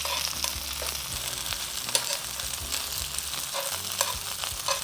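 Steady, loud sizzling of beef searing in a hot frying pan for beef and broccoli, with crackling pops scattered throughout and no voices.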